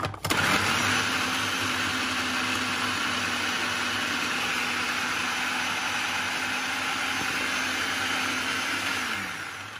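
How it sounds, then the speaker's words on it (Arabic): Food processor grinding onion for stuffing, a loud, steady motor whir that starts abruptly, holds an even pitch for several seconds, then winds down at the end. "وهضربه كويس في الكبة"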